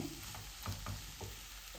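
Potatoes fry quietly in a pan while being stirred, a soft steady sizzle punctuated by several gentle scraping strokes of a spoon.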